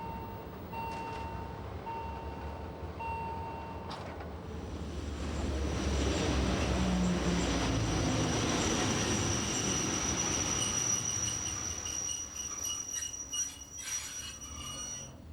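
A Rhaetian Railway train arrives on the Davos line in Switzerland after level crossing signals finish chiming, its approach swelling into a loud rolling rumble with squealing wheels that stays close for several seconds before easing slightly.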